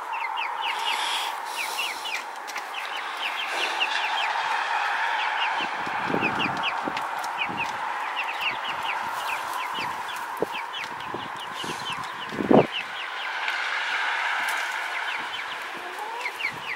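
A rooster, hens and chicks fill a coop with steady clucking and rapid high peeping, close and continuous, with a few thumps and brief rustles mixed in.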